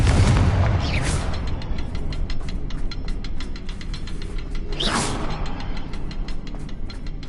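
Magical blast effects from the Confringo spell in Hogwarts Legacy, a loud whooshing burst near the start and another around the middle, over continuous busy game ambience and rapid clicking.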